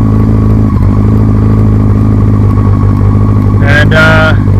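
Yamaha R6 (5EB) motorcycle engine idling steadily under electrical load with high beam and turn signal on, a loud continuous hum with a brief higher-pitched whine near the end, no talk.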